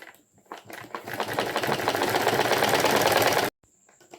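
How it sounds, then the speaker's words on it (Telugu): Sewing machine stitching a saree fall, a fast rhythmic mechanical whirr that builds and runs steadily for about three seconds before stopping abruptly, heard close and alone. "ఈరోజు ఫస్ట్ టైం నేను మిషన్ మీద కుడుతున్నా"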